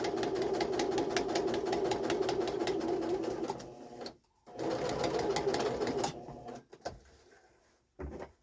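A sewing machine runs steadily while stitching a pinch-pleat curtain panel, its rapid motor whir filling the first few seconds before it stops, then short bursts of stitching start and stop again.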